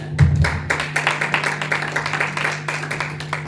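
Congregation in church breaks into applause, a steady patter of many hands clapping at close range with a faint low hum underneath, fairly loud and even across the few seconds.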